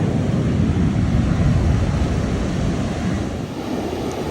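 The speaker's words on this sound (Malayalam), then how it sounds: "സീ ഭയങ്കര റഫ് കേട്ടോ, എനിക്ക് കാണാം നല്ല തിരയുണ്ട്." Rough sea waves crash on a beach in Goa in July, a continuous heavy roar of surf mixed with gusting wind buffeting the microphone, with no voices.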